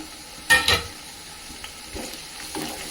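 Masala frying in a pan for a Telugu Sunday curry, a soft continuous sizzle with two sharp clinks of a utensil against the pan early on, close and moderately quiet.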